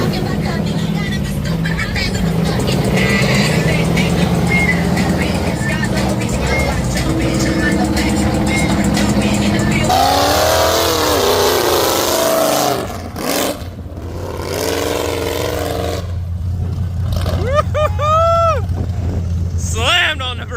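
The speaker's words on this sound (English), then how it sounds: "Hook up to the front of this, and they're gonna try and train pull while they winch." Mud trucks at a summer mud event, one hooked to the front of another to train pull while winching, roaring and revving continuously with loud engine drone, shifting pitch and sweeping revs, with crowd voices and talk mixed in.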